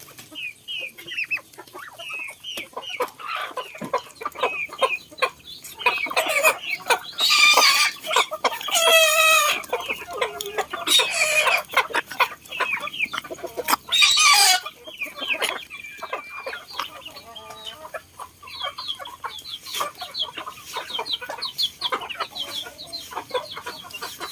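Chickens cluck steadily on a Lao farm where ducks and village chickens are raised after days of heavy rain, and a rooster crows loudly twice over the busy flock chatter.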